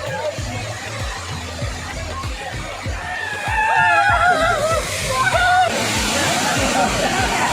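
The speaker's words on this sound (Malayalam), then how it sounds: "നമ്മൾ ഈ കാണുന്ന പോലെ വെള്ളം നല്ല ചാട്ടമാണ്." Water at Mangi waterfall pours and splashes in a steady, broad rush where people bathe, with voices and occasional shouts over the continuous roar.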